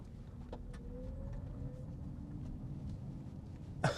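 Artificial driving sound of a 2022 Kia EV6 electric car heard from inside the cabin: a soft synthetic tone rising slowly over a low steady hum, ending with a brief louder burst.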